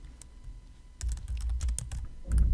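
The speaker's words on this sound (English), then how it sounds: "you could click on Edit or you can simply type it here" Quick bursts of clicking keystrokes on a computer keyboard, close and fairly loud, starting after a short quiet lead-in and continuing in an uneven rhythm, with no talking.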